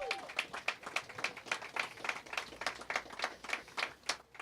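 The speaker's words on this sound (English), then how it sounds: "Give him a big round of applause if you would." Scattered hand claps from a small crowd at a city Earth Day proclamation, steady and fairly even in rhythm, moderately loud with no voices on top.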